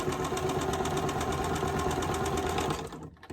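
A sewing machine stitches quilt block pieces for a nine-patch block in a steady, rapid mechanical whir, running continuously and close before stopping abruptly at the end.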